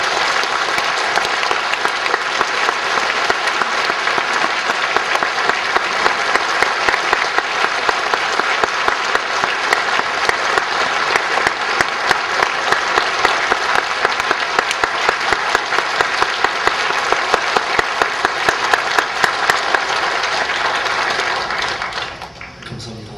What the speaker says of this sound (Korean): 목사님 나오실 때 우리 감사의 박수, 뜨거운 박수로 맞이해 주시기 바랍니다.